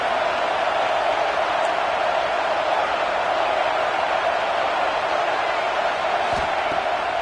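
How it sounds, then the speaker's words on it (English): A steady, dense wash of crowd roar at a college football game fills the whole stretch, constant and loud with no break, like a packed stadium heard from within. "This crowd bringing the energy and noise early."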